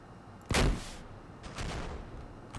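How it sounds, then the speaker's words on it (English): An AC-130 rocket strike in a Modern Warfare mod video game lands as one heavy, booming blast, followed by a second, softer rumbling explosion and a lingering roar. "AC-130 time. The rocket flying in."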